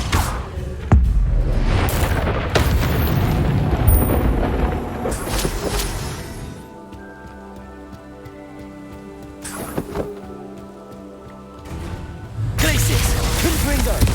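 Confringo explosion spells cast during Hogwarts Legacy combat, with loud booming blasts and crackling rumble that rise and fall over a dense game soundscape, a quieter tonal music stretch in the middle, then heavy bursts again.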